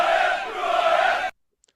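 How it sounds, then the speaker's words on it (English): A short burst of crowd cheering and roaring, loud and dense for just over a second before cutting off abruptly into silence. "So let's fire up the crowd"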